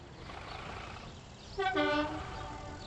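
Trains in the railway game Transport Fever rumble along with a low steady running sound, then a brief clear horn toot rings out in the middle before the rolling noise carries on.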